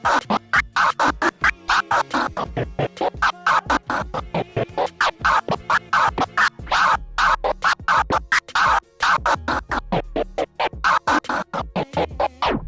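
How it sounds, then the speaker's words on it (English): Rapid, choppy transformer scratching on a turntable, the sound stuttered on and off in quick rhythmic bursts by a crossfader, loud and alone. "for your transformer scratch, which is gonna look and sound just like this"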